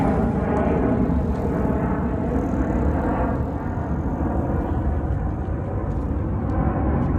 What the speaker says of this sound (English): So letting the aircraft fly over.